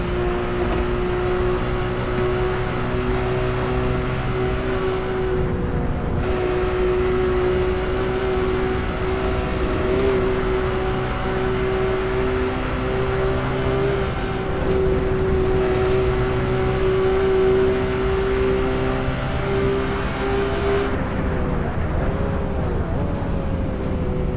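Porsche 911 Singer engine in Assetto Corsa holds a steady, loud, continuous drone through a lap, with brief dips in pitch around gear changes and corners, and no voice over it.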